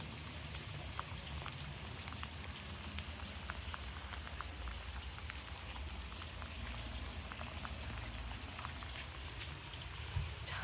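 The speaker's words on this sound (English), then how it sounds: "just enjoy the sound of that rain" Steady rain falling on a garden, a dense, even patter of close drops on leaves and surfaces running continuously and fairly softly throughout, with no voices.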